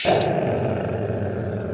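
Growling sound effect in a comedy sketch, a close, loud, rough low growl that starts abruptly and rumbles on continuously for under two seconds, with no speech.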